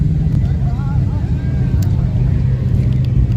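Turbocharged drag car making a solo pass at a night drag strip, a continuous engine roar heard from a distance under someone talking over it, with crowd noise around.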